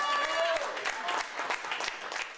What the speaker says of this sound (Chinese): 立刻鼓掌叫好